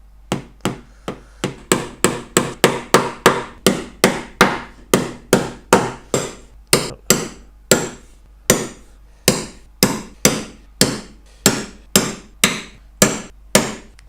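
Hammer tapping tacks into the wood of a top bar beehive, a steady run of about thirty sharp, close strikes with a short ringing tail on each, evenly spaced with brief pauses between small groups.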